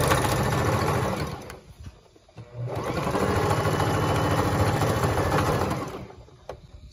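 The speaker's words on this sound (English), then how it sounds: "So we're going to stitch again to cover that raw edge on the other side." Sewing machine stitching a pillowcase seam to cover a raw edge, running in a steady whirring burst, pausing briefly, then running again before stopping.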